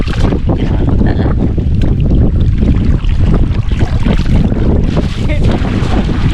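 Strong wind roars steadily across the microphone on open water, a constant heavy rushing that fills the whole clip.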